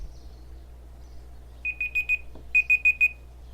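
An alarm in Kerbal Space Program beeps in two groups of four rapid, evenly spaced electronic tones over a low steady hum, with no talk.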